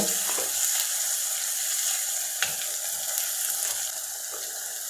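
Ginger and garlic sautéing with onions in a pan for egg gravy, with a continuous close sizzle and occasional faint stirring scrapes throughout.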